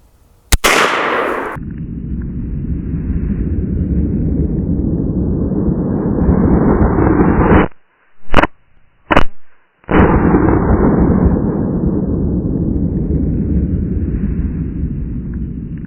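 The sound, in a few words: 357 Magnum gunshots, Underwood 140 grain Extreme Penetrator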